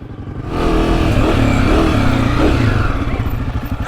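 A Honda CRF250F dirt bike runs through Florida woods with a loud, steady, close engine drone that rises and falls slightly as the throttle changes, with faint clatter over it.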